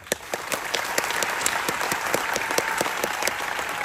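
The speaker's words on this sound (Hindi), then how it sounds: "मुझे बताओ तुम लोग कितना जोर से ताली बजा सकते हो?" An event crowd claps loudly, with a dense bed of applause punctuated by sharp, regular individual claps that stand out near the front, keeping a steady and energetic pace.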